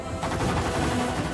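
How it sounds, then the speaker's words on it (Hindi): A sound effect of gunfire outside in a Hindi TV drama scene: a dense, loud, rapid burst of shots that carries steadily through the whole moment, with no voices over it. "हाँ बाहर गोलियां चल रही है"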